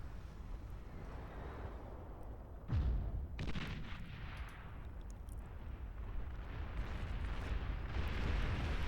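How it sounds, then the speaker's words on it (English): Gauntlet unit in the strategy game Beyond All Reason keeps firing, heavy artillery-like booms and rumbling blasts continuing throughout, one sharp loud impact near the start, with battle noise layered underneath. "This gauntlet still here, still firing away."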